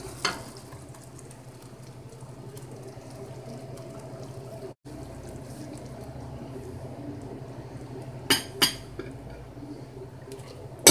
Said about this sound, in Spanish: Ya que la salsa está hirviendo, vamos a agregar la media crema.